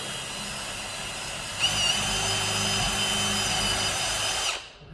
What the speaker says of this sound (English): So we'll do a little pilot hole to kind of get it started.